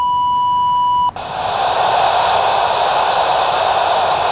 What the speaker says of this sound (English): So typically when you're not talking or listening on the radio, you'll hear static going in the background.